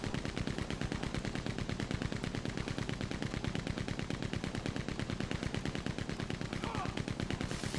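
Minigun fire in the video game Red Dead Online during a posse rumble at Shady Belle: a relentless, rapid, evenly spaced stream of loud shots with no break.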